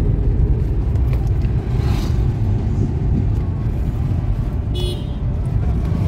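A car driving along a flyover in India, heard from inside as a steady low road rumble and engine drone, with faint traffic around and a brief distant horn toot near the end.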